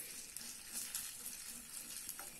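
Grated coconut roasting in melted ghee for paal kozhukattai, heard as a faint, quiet hiss of frying with soft stirring, and no voices.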